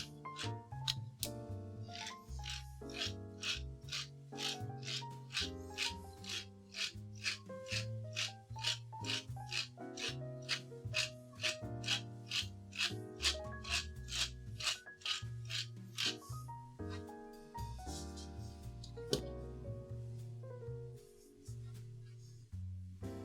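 Black pepper cracks through a hand pepper grinder in a long series of rhythmic raspy grinding bursts, close up and fairly quiet, repeating steadily for over twenty seconds.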